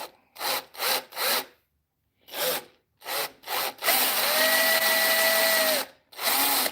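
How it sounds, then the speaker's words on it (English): A quick series of short, separate bursts of rasping, then a sustained whirring drill grinding into wood during woodturning for about two seconds before one more short burst. "Got to drill straight."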